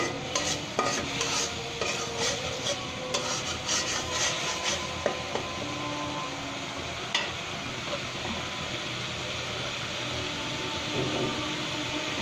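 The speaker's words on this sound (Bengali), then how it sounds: "এবার মশলা কষিয়ে মাছগুলো ভুনা করে নেব।" Spices and pangas fish being stirred in a pan, repeated scraping and rubbing strokes of a spatula over a soft continuous sizzle, close and steady, with a few sharper knocks early on.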